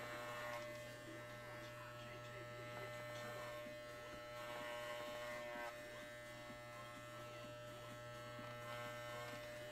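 An electric shaver runs steadily, buzzing close and continuous as it trims fursuit fur, with a person talking over the hum.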